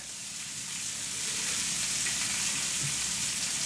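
Knobs of butter sizzle and fry loudly in a hot pan alongside steak, a steady, dense crackling hiss that holds close and even throughout, with no one talking.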